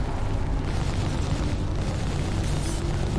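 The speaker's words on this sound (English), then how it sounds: "Xenothreat ship destroyed." A Xenothreat ship blows up in the Star Citizen space game, producing a loud, sustained roaring rumble that fills the whole stretch without letting up. No voices come through over it.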